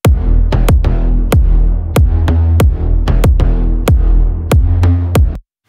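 Bass and kick drum playing together in a song mix, punchy kick hits landing in a steady pattern over a deep sustained bass line, stopping abruptly at the end.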